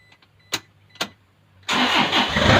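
A few faint clicks, then a Toyota Vigo pickup truck engine fitted with two batteries cranks and catches, settling into a loud, steady rumbling idle up close.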